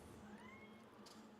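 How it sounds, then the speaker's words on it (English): A house cat meows faintly in the background during a tabletop card game session, a couple of soft, drawn-out calls over low room noise. "Can you guys hear my cat?"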